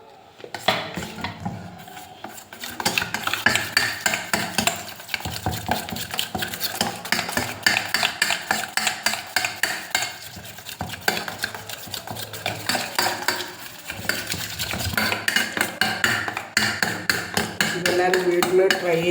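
A spoon stirs condensed milk (Milkmaid) into a bun maska mixture, steady scraping and clinking against the bowl that carries on throughout, with a voice talking now and then.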